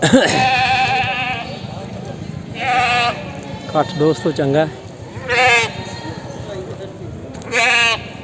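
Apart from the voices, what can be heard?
goats bleating at a livestock market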